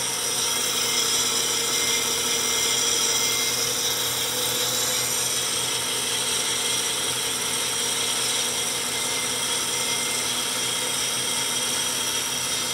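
A homemade spherical disc sander cutting as it spins, a steady, loud, unbroken grinding whir that holds evenly from start to finish with no talk over it.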